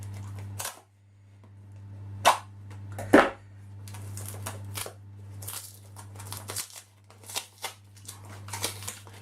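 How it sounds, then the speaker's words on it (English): Unboxing the packaging of a Quelima SQ13 mini WiFi action camera: close crackling, tearing and snapping of cardboard and plastic in scattered bursts, with a couple of sharper cracks, over a steady low hum. "let's get into this box without cutting my hand open"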